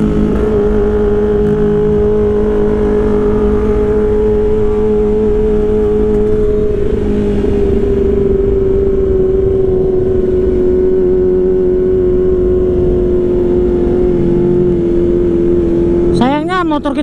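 Kawasaki Ninja 150RR and Ninja ZX-25R engines drone loudly and steadily at high revs during a drag race, with a sharp rising whine of another bike surging past near the end.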